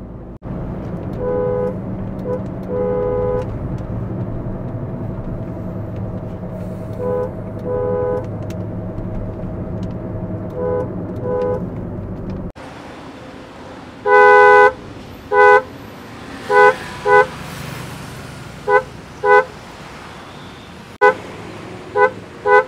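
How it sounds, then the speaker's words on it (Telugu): A car horn sounding in short repeated honks, first over a steady engine drone and then in sharper, louder bursts with pauses between them. "లోపల నుండి మనకి హార్న్ సౌండ్ అయితే కనుక ఈ విధంగా అయితే ఉండేది"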